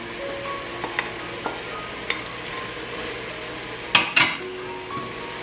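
Potato dropped into a sofrito of onion, garlic and sweet pepper frying in a pot, giving a steady sizzle with a few light clinks, then two loud clattering splashes of pieces landing near the end.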